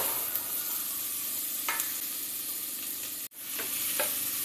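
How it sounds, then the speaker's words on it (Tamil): Small onions and fresh curry leaves sauté in a pan for mutton kulambu. A constant hissing sizzle is broken by a few stirring scrapes and a brief dropout near the end. No one speaks. "ப்ரௌன் கலரில் வர வரைக்கும் வதக்கிக்கோங்க"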